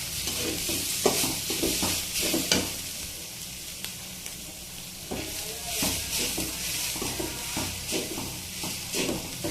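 Grated coconut is stirred and fried in a pan for a vegetarian dish, giving a continuous close sizzle with repeated scraping strokes of the spatula at an uneven rhythm.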